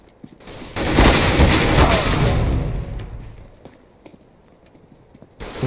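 A grenade goes off in Counter-Strike: Global Offensive with a loud, close blast that rumbles for about two seconds and then fades into small scattered game noises and a sharp click near the end.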